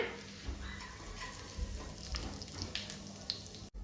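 Cinnamon stick and coarsely crushed black cardamom dry-roasting in a pan give a soft, steady sizzle and crackle with a few light scrapes. It runs alone with no voices.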